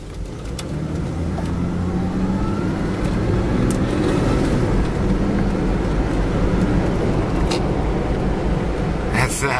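A 1982 Ford Granada Fox-body station wagon accelerates up to speed, its engine and road noise a steady, loud drone from inside the cabin with no break through the run.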